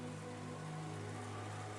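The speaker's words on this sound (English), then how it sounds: "There was only the gentle, sorrowful rain." Gentle, sorrowful rain ambience from the Umineko visual novel game, a soft steady hiss of falling rain at low volume with a faint low hum beneath and no talking.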